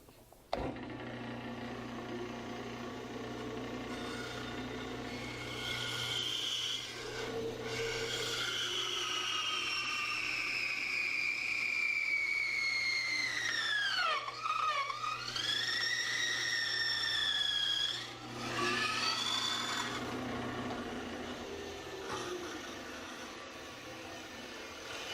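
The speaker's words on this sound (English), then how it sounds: "You notice I stopped and I started backing out with the bandsaw running" Bandsaw resawing a board, a continuous close whining blade and motor hum with rising and falling tonal whistles as the cut loads and eases, then a dip as the blade backs out while still running.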